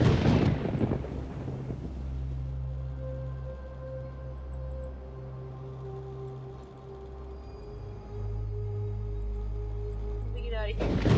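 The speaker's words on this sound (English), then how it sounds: "I like how it's just automatically, like, stormy whenever you enter the graveyard, the cemetery." Stormy graveyard ambience in the video game Harvester: a sustained low rumble of wind and distant thunder with steady droning tones, broken by sharp crackling bursts at the very start and end, with no talk.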